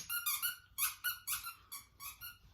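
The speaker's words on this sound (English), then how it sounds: "Can you hear my dog squeak? She's squeaking her toy." A dog chews on a squeaky toy, producing a rapid string of shrill squeaks in quick uneven bursts, close and fairly loud with no talking.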